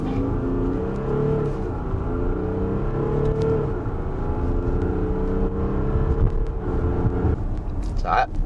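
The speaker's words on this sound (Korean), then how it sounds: "RPM을 끌어올려서 강하게 출발을 하고 있는데 휠슬립은 전혀 일어나지 않습니다." An Audi Q7 45 TDI diesel SUV pulls away hard from a standstill, its engine droning and climbing in pitch through the gears, heard from inside the cabin while someone talks over it.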